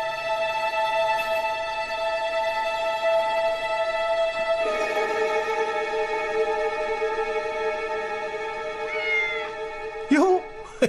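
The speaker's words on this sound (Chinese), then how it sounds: "这小猫咪都馋了" A cat gives a short meow near the end, fairly faint beneath a sustained musical drone and speaking voices.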